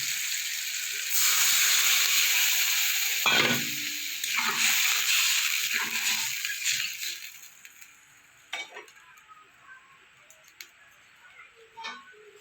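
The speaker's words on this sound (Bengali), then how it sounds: "এবার আমি জলটা দিয়ে দেবো" Water poured into a hot pan holding a sugared mango sour dish hisses loudly and steadily for about seven seconds, then dies away to faint crackles and small clicks.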